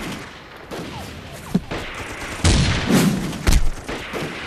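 Rifle shots crack in a war drama sniper fight set during the anti-Japanese war, several sharp blasts at irregular intervals with booming echoes over a low background.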